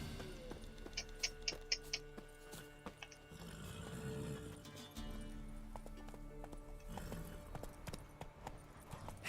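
Roach the horse clip-clops along in The Witcher 3, a video game, with steady hoofbeats set against a dense bed of game music and ambience, fairly faint and continuous with no speech.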